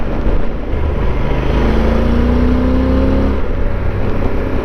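A 2012 motorcycle engine pulls loud and steady while riding through twisty roads, with a rising tone midway as the throttle opens, all under constant wind rush.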